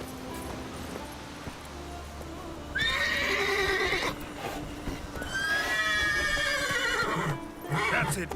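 Roach, a horse in the video game The Witcher 3: Wild Hunt, whinnies loudly twice and then a third time over a steady background of game ambience and faint hoofbeats, with no talk.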